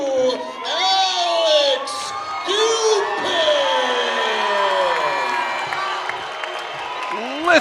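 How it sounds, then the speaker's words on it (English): A sold-out crowd at a Chosen Few Fighting Championship bout in the Monona Terrace Convention Center cheers, whoops and applauds loudly and continuously, with children shouting and an announcer's voice calling out over the roar. "Listen to the thunderous applause of a sold-out crowd here at the Monona Terrace Convention Center."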